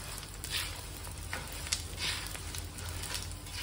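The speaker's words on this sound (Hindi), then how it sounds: "ये गोंद अच्छी तरह से भुन गया" Edible gum (gond) roasts in a hot pan with a steady, close sizzle, punctuated by soft scraping stirs and faint crackles, with no talk over it.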